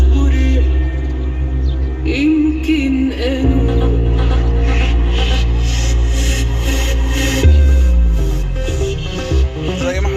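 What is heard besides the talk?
music played loudly through car Android screen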